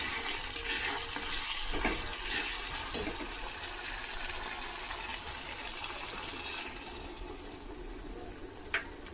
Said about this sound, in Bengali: এবারে আমি জল ঢেলে দেবো এর মধ্যে